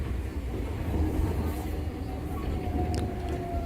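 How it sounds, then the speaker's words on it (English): Steady rumbling ride inside a train in Japan, a continuous low roll with faint squeals and rattles throughout, fairly loud and unbroken. "train in Japan"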